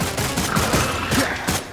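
Rapid gunfire from a character's weapon in the action game Wuthering Waves, a loud dense burst of overlapping shots with rhythmic thumps running throughout, no speech.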